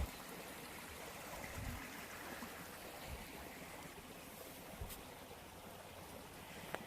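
Mountain stream in Cumberland Gap National Park flowing steadily, a faint continuous burble and rush of water with a few soft thumps and no voices.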